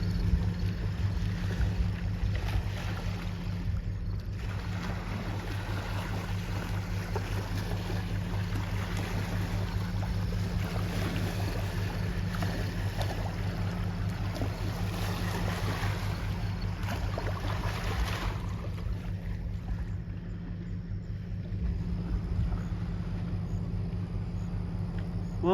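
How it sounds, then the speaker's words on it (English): The Algoma Central Corporation tanker Algocanada sails downriver, a steady low engine rumble and hum mixed with rushing water and lapping waves from its wake, continuous and fairly close, with light wind and no talking. "enjoy this video of the Algoma Central Corporation tanker"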